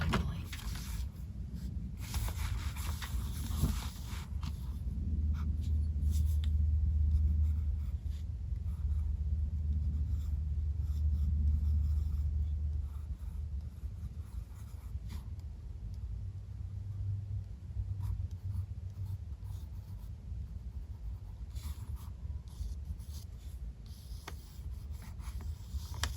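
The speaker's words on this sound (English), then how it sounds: "Just trying to hold the pencil really loosely" Pencil scratching and rubbing across paper in an art journal, a continuous soft rasp of strokes close by, heavier in the first half and lighter later.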